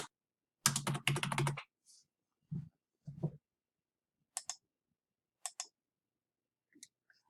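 Case number being typed on a computer keyboard for a federal court records search: a quick burst of clustered key clicks, then a few separate taps with pauses between them, close and clear in a quiet room.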